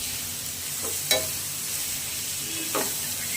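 Tamarind leaf and onion curry with chilli powder being stirred in a pan, a steady frying sizzle broken by two short scrapes of the spoon, close and moderately loud with no talking.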